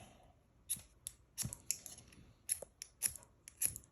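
Fire starter rod struck against its steel during an unboxing, producing a series of sharp, scraping strikes at an uneven rhythm, close and fairly loud with no talking.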